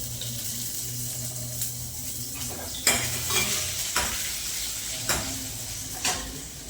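Garlic hits a hot pan and fries with a soft, steady sizzle, while a spoon scrapes and clinks against the metal a few times. There is no talking.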